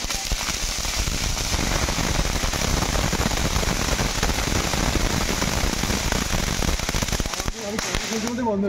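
Dense, continuous crackling bursts of firecrackers set off outside a church, loud and close, a rapid chattering barrage that holds steady for several seconds before abruptly cutting off, with people talking faintly underneath.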